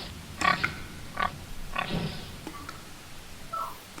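A hedgehog, or hedge pig, whines as a Macbeth sound effect: a few short, squealing grunts near the start, then a couple of fainter squeaks later, fairly close and alone over low background hiss.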